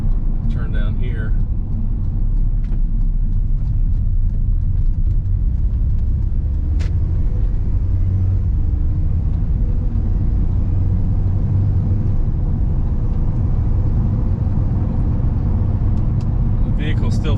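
Steady road rumble and engine drone from a 2014 Mazda MX-5 hard top on a test drive, heard from inside the cabin as a continuous low roar with a few light clicks, while a person speaks.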